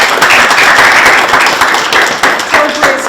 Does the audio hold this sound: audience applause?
yes